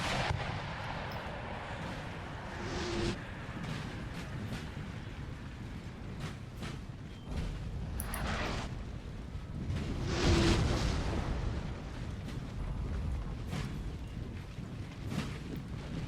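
Napoleon: Total War battle with cannon artillery fire, low distant booms and rumbling blasts at intervals, heaviest near the middle, under a steady battlefield din.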